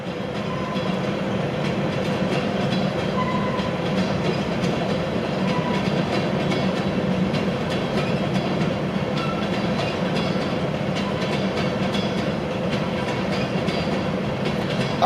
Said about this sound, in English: Suppose you want some noise with your train, huh?